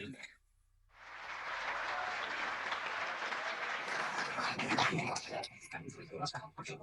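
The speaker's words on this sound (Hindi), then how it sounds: "आपकी तालियों की गूंज में" A mushaira audience in Dubai breaks into sustained, dense applause after a brief silence, loud and steady for several seconds before thinning into scattered claps.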